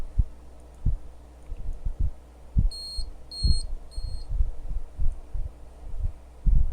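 A small electronic messaging device sends out three short, high-pitched beeps in quick succession, sounding clearly above a background of low thumps and handling noise.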